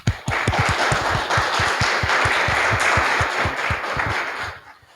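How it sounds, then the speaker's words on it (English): An audience applauds at the close of a FOSS4GE 2025 conference talk: steady, close rhythmic clapping from a modest crowd that holds for several seconds and then thins out and fades. "Then a big applause."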